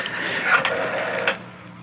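Telephone dialing effect in a 1970s CBS Radio Mystery Theater drama: a short mechanical whirring and clicking run lasting about a second and a half, close and moderately loud, with no voices over it.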